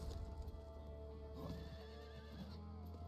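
A horse in a video game neighs and its hooves clip-clop, the whinny rising over a steady background hum, all quiet.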